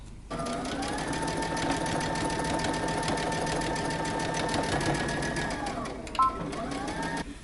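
A sewing machine runs steadily close by, stitching near the edge of a jacket in one long continuous whir that slows and stops near the end, then starts again briefly.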